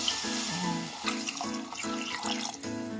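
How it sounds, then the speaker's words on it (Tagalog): Water poured into a pot of simmering pork on low heat while cooking bamboo shoots, a steady splashing pour running through the whole clip with a few clinks of the pot, close and moderately loud. "Lagyan na natin ng tubig."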